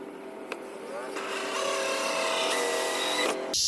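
Power drill boring a starter hole through a Jackson Bite fishing kayak hull for a jigsaw blade: a close whining spin that rises in pitch and holds steady, then stops abruptly near the end.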